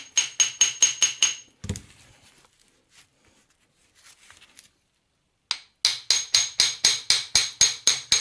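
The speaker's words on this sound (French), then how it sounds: "je vais utiliser la technique du pivert, c'est-à-dire, regardez, je vais tapoter tout doucement comme ça" Light hammer taps on a Citroën 11 cardan part being freed, a quick run of about five sharp, evenly spaced strikes, a pause with faint handling noises, then another steady series of about ten close, crisp taps.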